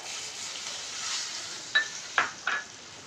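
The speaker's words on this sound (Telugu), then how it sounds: "ఇప్పుడు పన్నీర్ ముక్కలు వేయాలండి." Paneer pieces fry in a pan with a steady, close sizzle, broken near the end by three sharp scrapes and clinks of a stirring utensil. No one speaks.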